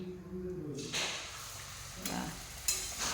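Wheat-flour luchi flatbread drops into hot oil, a soft sizzle swelling in short bursts as the dough hits and is stirred, fairly quiet and close with no speech.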